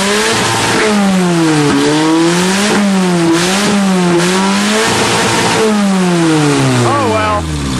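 Nissan 200SX engine with full exhaust and an upside-down exhaust manifold revs repeatedly and loudly, rising and falling in several sharp pulls close by, with voices talking underneath.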